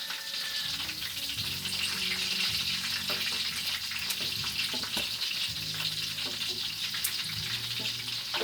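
Skin frying in a pan gives a loud, continuous crackling sizzle with sharp pops, close up, while low clunks of a utensil stirring recur underneath.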